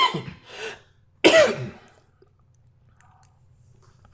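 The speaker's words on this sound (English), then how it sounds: "Let me mute out because I feel a cough." Indoors, a single sharp close cough bursts out after some muffled throat sounds, followed by near silence with faint clicks.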